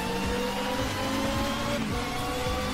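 Super Touring estate race car lapping Knockhill in the RACE 07 sim, its engine droning steadily and loud with pitch sweeps as it shifts gears and revs through corners.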